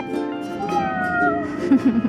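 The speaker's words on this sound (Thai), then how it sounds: "เจอน้องแมวด้วยค่ะ" A cat outdoors near the seashore gives a drawn-out meow followed by a few short chirping sounds, close and clear, while a person talks softly.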